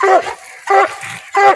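Close, loud coon hunting dog gives three sharp, whining yelps in quick succession with a tremulous, pleading tone.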